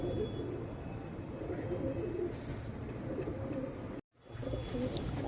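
Pedigree pigeons kept for sale in a shed, cooing continuously at close range over a steady background murmur, with a brief gap in the sound near the end.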